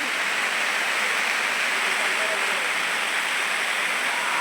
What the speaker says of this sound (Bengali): আর এখন বেজান বৃষ্টি দেয়